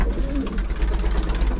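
Pet pigeons cooing up close, a soft low rolling coo repeated over a second and a half.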